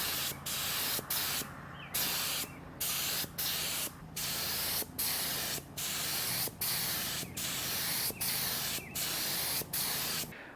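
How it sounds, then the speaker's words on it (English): Spray paint goes on as the first coat over a KDX 450 motorcycle frame in a close series of short hissing bursts, each lasting about half a second, separated by brief regular gaps. "we're gonna do a first coat, and then we're gonna let it flash for about 15 minutes"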